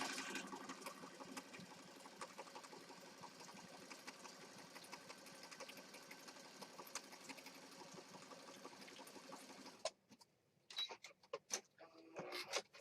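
A sewing machine stitches paper pieces for a junk journal, running as a steady close whirring buzz for about ten seconds, then stopping, followed by a few faint handling clicks and rustles.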